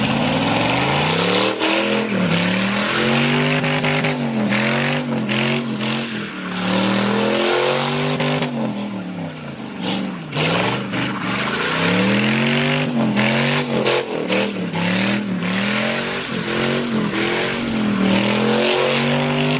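A turbocharged LS-swapped Ford Festiva revving hard and pulling through gears, with loud rising engine notes climbing and dropping in repeated sweeps, close and aggressive with no talking.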